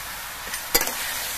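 Spices, salt, turmeric and cumin, being stirred into onion greens in a hot pan, giving one brief scraping stir over a faint steady sizzle.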